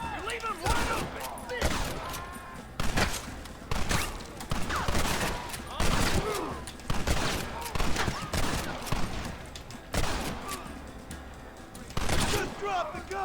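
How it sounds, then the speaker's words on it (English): Rapid, overlapping gunshots from a firefight in the video game Red Dead Redemption on PS5, loud volleys of rifle and pistol fire cracking repeatedly throughout, with shouted voices of characters mixed in. "Get ready to hold off their fire, Marston."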